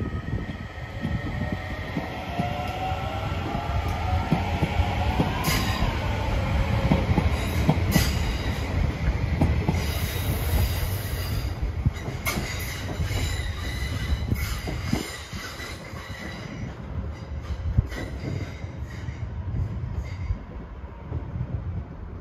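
An electric Class 8600 commuter train rolls past steadily near Heuston, Dublin, wheels clattering over rail joints with brief metallic squeals, a constant rumble and no voices.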